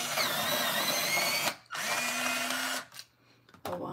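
An electric Derwent pencil sharpener grinds Derwent Inktense pencils in two loud, steady whirring bursts of about a second and a half each, separated by a brief pause. A short third burst starts at the end.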